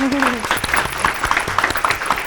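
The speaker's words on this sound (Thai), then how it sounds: "เอาปรบมือได้ครับ" Audience applause at a talk show, a dense burst of clapping heard up close for a couple of seconds.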